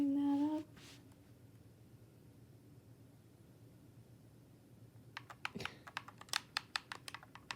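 A short burst of typing on a computer keyboard while a password is entered for an Xbox account, quick close clicks near the end after a faint tone and a quiet stretch.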